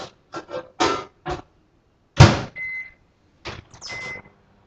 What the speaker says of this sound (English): Put it in the microwave. Only needs about 30 seconds.